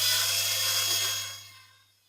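A 5.5 mm drill bit boring out a metal rivet on a Corgi diecast toy, a steady high whining grind that holds then winds down and fades.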